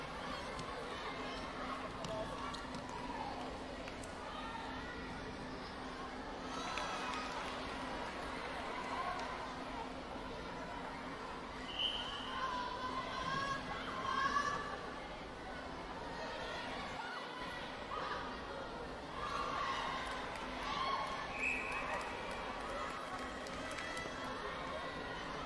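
Crowd cheering and chattering in a sports complex arena during a women's netball match at the 2019 SEA Games between Singapore and Brunei, a steady dense roar with scattered louder shouts and swells throughout.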